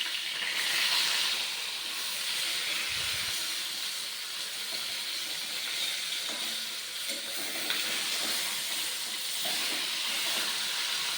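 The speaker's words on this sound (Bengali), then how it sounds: "মাছটা ভাজছি আর কি, মাছটা ভাজার জন্য সাদা তেল দিয়ে দিলাম" Shol fish frying in white oil in a pan, a steady loud hiss and sizzle that holds for several seconds with faint clinks underneath.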